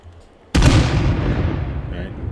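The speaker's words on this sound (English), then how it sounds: "Pretty much blows up and kills everything in its vicinity. It has a really large explosion radius." A nuke fired from a helicopter weapon in State of Decay 2 detonates with a sudden loud boom, then a long roaring rumble that slowly fades over the next two seconds.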